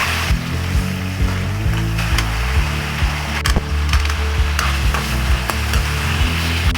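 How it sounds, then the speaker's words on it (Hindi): Chicken frying in oil over a medium flame for a white karahi, a loud continuous sizzle close by with low rumbling and occasional sharp pops and clicks throughout. "इसको हम फ्राई करेंगे।"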